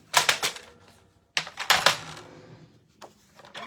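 Scissors cut paper for a desk calendar in short crisp bursts of snipping, close by, separated by quiet pauses.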